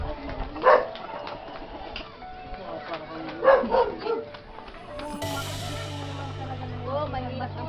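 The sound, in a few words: dog barking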